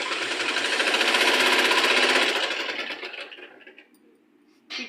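Sewing machine stitching the side seams of a blouse, a steady loud mechanical whir that runs for about two seconds and then slows and fades, with a brief burst again at the end.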